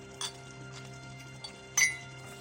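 A few light glass clinks, spaced apart, the last one the brightest, over a steady low hum in a quiet room.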